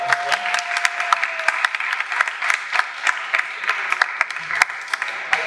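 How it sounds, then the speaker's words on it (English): A creativity conference audience breaks into lively applause, with many distinct claps standing out from a dense wash of clapping at moderate loudness, and a faint voice briefly underneath. "Big round of applause, please."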